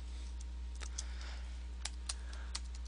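Keys tapped on a computer keyboard while entering a query keyword, a handful of light, sparse clicks over a steady low hum.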